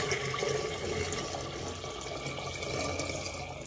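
Water pours steadily into a glass fish tank, a continuous splashing, gurgling stream that holds at an even, fairly loud level throughout.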